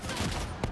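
Burst of gunfire in Call of Duty Black Ops III, a dense continuous run of shots across the whole moment with one sharper crack near the end, loud and close.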